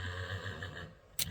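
A horse on a small farm gives a single clear whinny that rings out close and fairly loud, with a short sharp sound right at the end.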